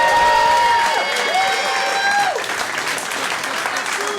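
Live studio audience at a late-night comedy show applauding and cheering loudly for a guest, steady dense clapping that fills the whole stretch while a host's voice carries over it.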